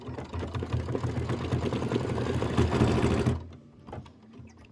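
An embroidery sewing machine stitches a placement line for a hay strip, a steady close rapid mechanical whirring and clatter that stops abruptly, leaving faint room noise.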